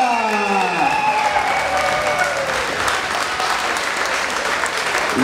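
Steady, dense applause from a boxing event audience as a veteran coach is invited into the ring, loud and sustained for the full stretch with a faint tonal hum early on.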